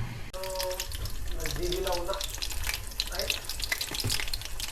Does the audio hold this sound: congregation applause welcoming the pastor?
no